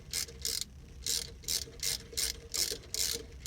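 A ratchet works thermostat housing nuts on a 5.7L Mercruiser marine engine, giving a steady run of about nine crisp, close clicking strokes in an even rhythm, with no talk.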